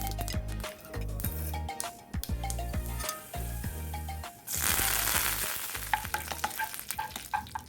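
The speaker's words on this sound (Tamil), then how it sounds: "இனிமேல் இதை தாளிக்க போகிறோம்." Spices are tempered in hot oil in a pan for steamed rice-flake balls. A spoon stirs and clinks at first, then a sudden loud sizzle bursts up and crackles on steadily.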